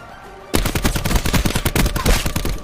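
Video game gunshots starting abruptly: a dense, loud stream of rapid automatic fire, close up and continuous for a couple of seconds, with no speech heard.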